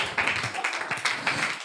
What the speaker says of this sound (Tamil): தயவு செய்து யாரும் செய்யல தானே கைத்தட்டு கொடுத்துங்க